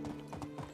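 Horse hooves clip-clop at a steady walking rhythm in the medieval game Medieval Dynasty, four or five quiet, evenly spaced footfalls over a faint background hum.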